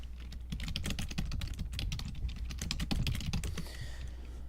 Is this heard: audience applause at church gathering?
no